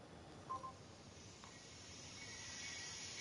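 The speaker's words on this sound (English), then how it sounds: "No, it's like Oh no, crickets and that's a forest." Crickets chirp in a forest as a faint, steady high-pitched drone over soft background hiss, with a couple of brief tonal blips. No one speaks.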